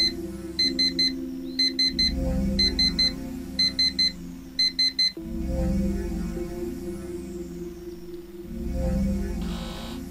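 Alarm clock in the video game Actual Sunlight, sounding in repeated rapid beep bursts over a low humming musical drone, loud and close before fading into the background music.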